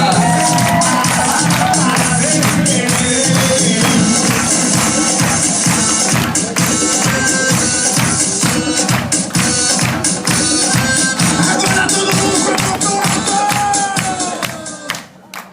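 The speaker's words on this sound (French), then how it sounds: "je vais demander à tout le monde de faire un tonnerre d'applaudissements pour notre animatrice Mini Club Mrs. Eleonore" An audience at a Club Lookéa holiday resort in Djerba gives a loud, sustained ovation for a Mini Club entertainer, with dense clapping and cheering that carries on steadily before tapering off at the very end.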